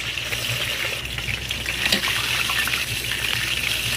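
Duck frying in hot oil gives a loud, dense, continuous crackling hiss that stays steady throughout, close up with no voices.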